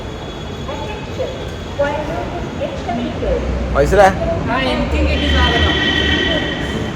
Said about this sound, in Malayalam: ഇപ്പം ഇങ്ങനെ എടപ്പള്ളിക്ക് പോകാൻ വേണ്ടി മെട്രോയിൽ